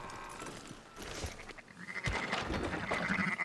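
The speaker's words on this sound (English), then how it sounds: "Fine sheep." Sheep bleat in Red Dead Redemption 2 in the town of Rhodes, Lemoyne. Several wavering bleats from more than one animal come at close range, growing louder toward the end over faint background noise.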